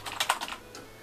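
Rapid, light clicking of keys on a computer keyboard from a gaming PC setup, a short burst of several close taps that thins out toward the end.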